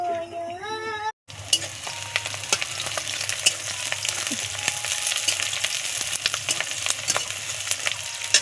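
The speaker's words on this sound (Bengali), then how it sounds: "প্রায় তেল গরম হয়ে গেছে, এবার বড়িগুলো ভেজে নেব।" Lentil dumplings (bori) fry in hot oil with a loud, crackling sizzle that continues close by, with scattered pops and stirring clicks after a brief tonal sound and a short gap at the start.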